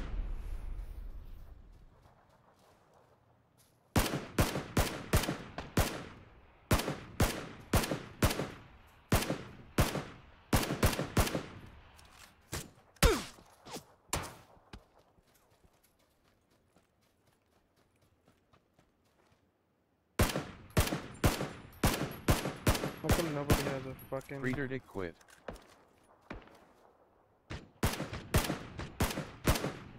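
Video game gunfire comes in long bursts of loud, rapid shots separated by quiet gaps, with a brief spoken remark under the shooting.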